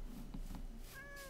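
A cat meows in the Minecraft video game, a few short mews over a low background hum, followed by a brief rising tonal chime near the end.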